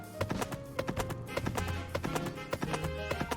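Horse hooves clip-clop at a steady trotting rhythm in the farming game Pumpkin Days, close and distinct, over a layer of cheerful game music.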